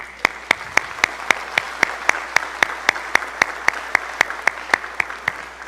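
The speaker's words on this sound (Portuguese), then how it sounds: "Uma salva de palmas." Steady, evenly spaced handclaps ring out at a brisk beat, loud and close, like a small group clapping in unison at a Federal Police medal ceremony honoring officers.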